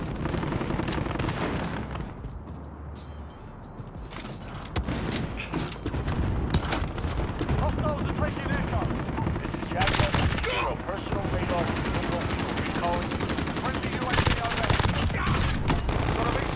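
Sustained automatic gunfire and explosions in Call of Duty: Modern Warfare multiplayer, dense and loud throughout with mechanical clatter and a brief lull near the start.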